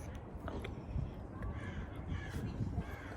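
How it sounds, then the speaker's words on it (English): Several crows caw in scattered bursts over a low outdoor rumble, fairly close and moderately loud, in Flagstaff. "there's some crows here. I hear the crows."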